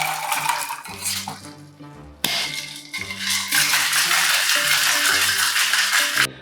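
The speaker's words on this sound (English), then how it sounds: "Again, we're gonna shake that, but not too much because there's already water in the drink." A Grog cocktail made with Liquid Death water is shaken in a cocktail shaker, giving loud, rattling clatter that builds into a sustained churn over several seconds, with background music underneath.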